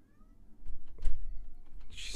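A pet cat gives soft, brief meows close by, mixed with rustling handling noise and a sharp thump, ending in a burst of hiss-like noise.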